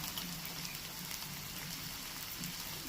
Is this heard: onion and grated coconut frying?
yes